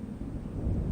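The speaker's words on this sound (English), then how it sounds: "It seems there's a storm coming." Low, rolling thunder from an approaching storm in a video game, a steady rumble that swells a little toward the end, with no voices.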